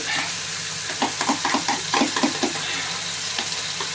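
A spoon stirs yoghurt chicken curry in a hot, sizzling pan, with a steady sizzle and a run of soft rhythmic scraping strokes in the middle, close up and without talk.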